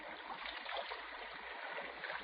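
Underground river water rushes and trickles through a cave in a radio drama, a quiet, steady stream-like flow with no voices.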